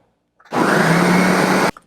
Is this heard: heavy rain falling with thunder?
no